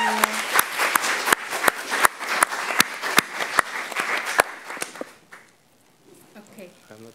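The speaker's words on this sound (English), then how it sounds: "Can you all please give Mitchell a warm applause for his amazing" Sparse, distinct hand claps from a small audience at an academic presentation on decolonizing the university. The claps are steady and separate, fade out after about five seconds, and a voice starts speaking near the end.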